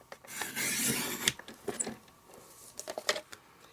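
Blade cutting through two layers of card to trim an even border, heard as a close, dry rasping scrape followed by short scattered scratches and taps.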